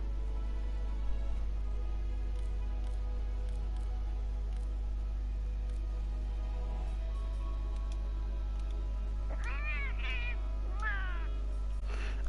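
A Palico cat companion in Monster Hunter World meows several times in quick, pitched cries near the end, sitting over a steady low in-game hum and faint ticks.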